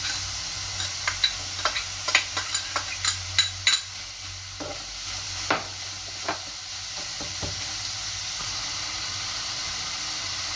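Potatoes stirred into pork ginisa frying in a pan, with a series of spoon scrapes and knocks over a steady, soft sizzle, fading to just the hiss after a few seconds.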